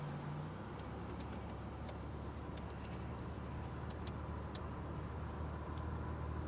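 A 1987 Buick Grand National cruising on a road, its engine a low steady drone inside the cabin with constant road and tire noise, faint ticks and clicks scattered over it, no one talking.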